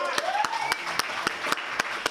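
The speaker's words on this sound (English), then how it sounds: "Let's give him a round of applause." An audience at a Libertarian Party of Nevada press conference applauds, with sharp distinct claps spaced at a steady rhythm under a voice and a faint background tone.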